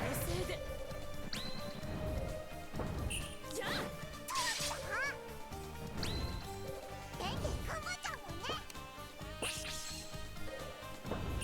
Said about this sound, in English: Thank God for Benkei's heavy smash attack.